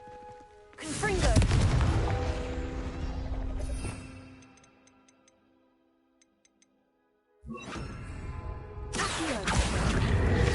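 Blasts from the Confringo fire spell in Hogwarts Legacy burst out loudly in two episodes, each a sharp whoosh and crackling impact that decays into a ringing tail, with near-silence in between.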